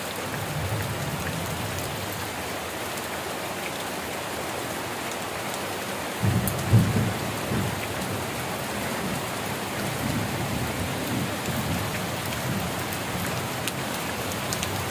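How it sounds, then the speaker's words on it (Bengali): Heavy rain pours down in a steady, dense hiss of drops striking surfaces, with a brief low rumble partway through and no talking. "তো তোমরা দেখো আবহাওয়াটা কতটা খারাপ, প্রচণ্ড বৃষ্টি হচ্ছে।"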